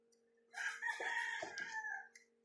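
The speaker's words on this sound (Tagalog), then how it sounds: "ingay ng manok" Rooster crowing once in a long, drawn-out call, fairly close and clear against silence.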